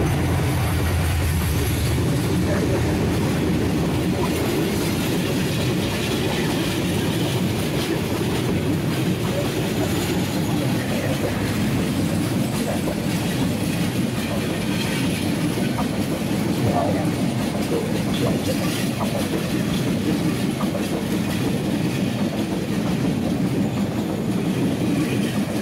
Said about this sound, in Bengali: 3024 লোকোমোটিভ নিয়ে আসছে আন্তনগর বুড়িমারি এক্সপ্রেস।